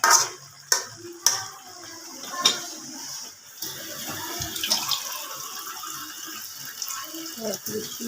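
Water poured from a kitchen vessel into a pot of curry, a steady splashing pour after a few sharp clinks of utensils and cookware, close by and fairly loud.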